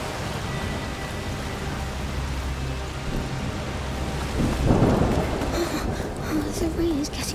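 Video game A Plague Tale: Requiem: steady rain with low rumbling thunder swelling midway, a loud crack near the middle, and voices talking over the storm toward the end.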